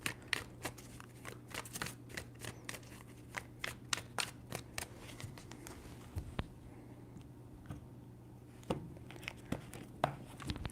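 Tarot cards are shuffled by hand in quick, crisp riffles that come in bursts, close and fairly quiet, with a steady low hum beneath and no talking.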